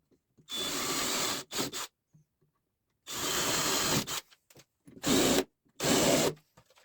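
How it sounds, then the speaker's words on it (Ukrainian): Power drill running in several bursts, drilling and driving screws into a homemade wooden toy shelf, with short pauses between each run; close and fairly loud, no talking. "Так само просверлив, зняв паски і закручую."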